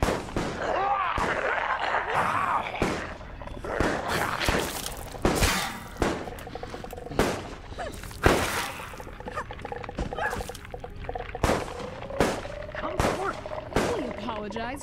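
Repeated gunshots from Resident Evil Resistance ring out as sharp separate bursts at irregular intervals over nearly fifteen seconds, some loud and close, with voices talking between them.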